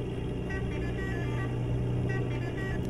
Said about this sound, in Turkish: Kornalarımız.